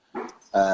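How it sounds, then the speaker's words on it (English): A dog barks excitedly at home as someone arrives, a short loud outburst of two rough barks heard close by. "That's my dog going crazy because my wife just walked in."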